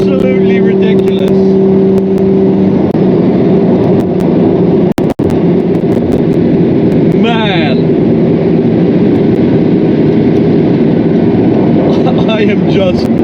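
A 1250HP twin turbo Lamborghini Huracan accelerates on the Autobahn with a loud, sustained engine roar and steady wind rush, broken by a short dropout, while someone speaks briefly.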